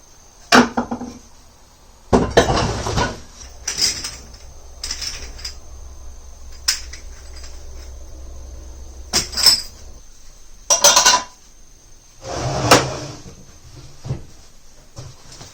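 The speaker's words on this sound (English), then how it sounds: "There are two more of these sliding doors. I'm going to go ahead and take all four of them down." Wooden sliding cabinet doors are lifted down in a kitchen, producing scattered bursts of knocking, scraping and clattering wood separated by stretches of near quiet.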